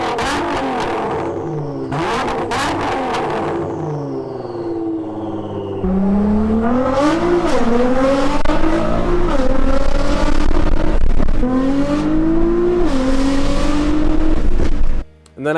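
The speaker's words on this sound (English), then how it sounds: "Now a V6 with turbos." Turbocharged V6 car engine revving repeatedly, close and loud, pitch swinging up and down in several pulls, with faint whooshing between revs.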